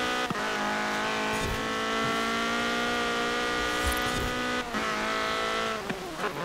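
A Ford Escort's Cosworth engine drones steadily at high revs in Forza Horizon 4, a loud sustained harmonic whine with brief shifts and tire scrubs near the end.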